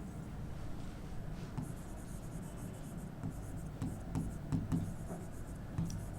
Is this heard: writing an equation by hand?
yes